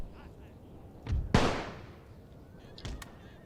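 Hussar cavalry firing guns in a World War I video game battle in Serbia: two sharp gunshot bursts, one loud broadband crack near the middle and a fainter shot near the end, over low game background noise.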